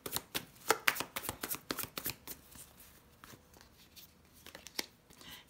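Tarot cards are drawn from a deck and laid down in a quick run of soft, crisp slaps and rustles, dense at first and then sparser, close and quiet with no talk.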